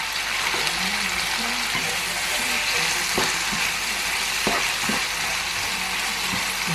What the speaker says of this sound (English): Now I'm gonna go ahead and throw my saltfish in